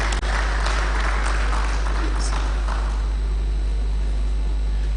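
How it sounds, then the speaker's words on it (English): Applause from a crowd at a labour arbitration and adjudication forum, a dense patter of clapping that starts strong and gradually thins out over a steady low hum. "Please, a round of applause."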